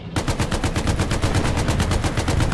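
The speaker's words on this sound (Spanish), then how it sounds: "¡Hola! Vaya bombardeo" A dense World War II bombardment in Hell Let Loose, with rapid, continuous, loud bursts of gunfire and blasts that sound up close, thundering steadily without pause and with no voices.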